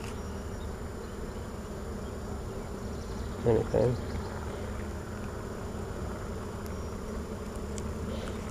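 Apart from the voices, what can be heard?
honey bees buzzing during hive inspection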